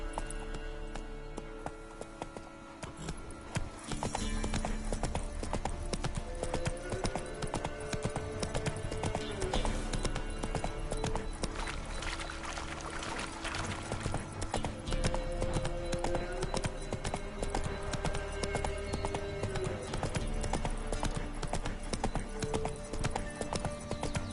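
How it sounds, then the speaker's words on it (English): Horse hooves clip-clop in steady rhythm through The Witcher 3: Wild Hunt, a continuous trotting patter under the game's background sound that carries on for the whole stretch, with a brief quieter pause near the start. "Whoa there, Roach"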